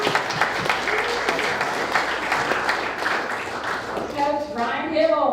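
An audience at a college golf Q&A gives a round of applause for a Hall of Fame NCAA player, steady clapping that tapers toward the end as a voice starts speaking over it.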